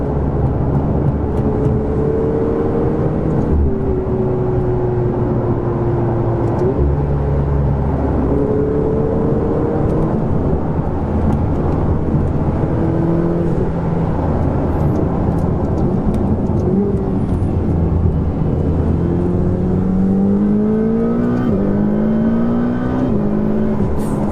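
Ferrari 488 supercar engine accelerating as heard from inside the car, a loud continuous roar with rising and falling pitch sweeps through repeated gear changes over about 24 seconds.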